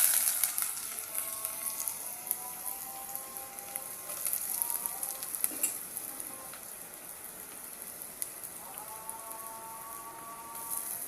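Onions frying in hot oil in a home kitchen pan, a continuous bright crackling sizzle holding steady throughout, with faint background tones rising now and then but no talking.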